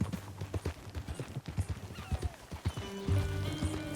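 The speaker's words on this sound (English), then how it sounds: "Fine horse you got there" Horse hooves clip-clopping at a walk in the video game Red Dead Redemption 2, a steady rhythmic beat of close, clear hoof strikes, with a held tone entering near the end.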